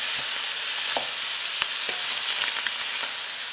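Vegetables sizzle in bacon fat in a pot for New Orleans red beans, giving a steady bright hiss of frying. A spoon stirs them with a few scattered scrapes and clicks. The sound is close and continuous, with no voices.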